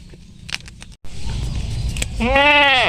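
A goat of a pedigreed breed bleats loudly at close range near the end, a single drawn-out wavering call, after rustling and soft background sounds on a farm.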